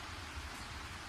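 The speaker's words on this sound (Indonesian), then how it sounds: "Lah, tiba-tiba hujan." Rain in the Sakura School Simulator game hisses steadily, an even, dense wash of falling water with no breaks.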